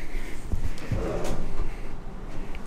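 Hotel room drawers slide open and shut in a suite, with a few wooden thumps and rolling scrapes, close by and with no talking.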